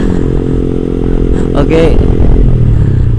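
A modified Yamaha motorcycle fitted with an R9 GPX exhaust revs loudly and close by, its engine note rising and falling with some clatter, while a voice speaks briefly over it.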